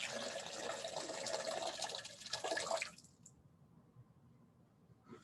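Water trickles and drips through a siphon hose for about three seconds, then the flow abruptly stops, leaving near silence with faint room noise.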